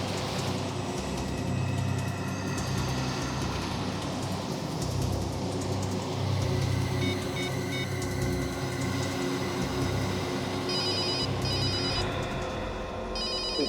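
A telephone rings loud and steady in a tense drama scene, its repeated electronic trill running continuously with no talk over it.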